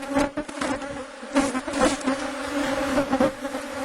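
Honeybees buzz steadily around stacked hive boxes in an open apiary, a continuous droning hum with brief swells as individual bees pass close to the listener, and no voices are heard.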